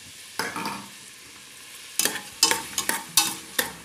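Two finely chopped large onions sauté in oil in a curry pan, a quiet sizzle punctuated by a run of quick, sharp stirring scrapes in the second half, close up with no voices.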